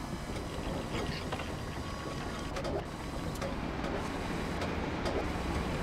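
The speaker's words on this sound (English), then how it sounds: "I swear I heard a vehicle drive by us or something." A vehicle passes nearby in the World War II shooter Hell Let Loose, a steady low engine rumble with a few faint clanks over a constant background, and no talk.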